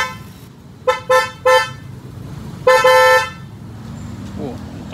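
Newly installed horn on a Honda Jazz GD3 hatchback blaring close by: three quick honks in a row, then one longer blast, loud and brassy against quiet background noise.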